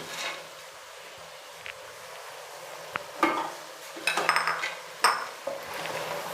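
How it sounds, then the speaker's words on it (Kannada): Lentils (dal) go into a pot of frying masala for a Naati-style chicken dal curry, with scraping, stirring, and metal clinks over a soft sizzle. "ನಾನೀಗ ಇದು ಬೇಳೆನ ಇದರಲ್ಲೇ ಸೇರಿಸ್ತಾ ಇದ್ದೀನಿ"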